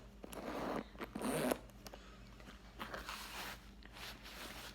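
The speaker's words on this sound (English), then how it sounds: "These are braided pull chains, zipper pulls rather." Braided zipper pulls on a Dooney & Bourke pebble grain leather Cooper bag jingle and rustle as the zipper is handled, a few soft scrapes and clicks up close and fairly quiet, with a louder burst early on and no talk.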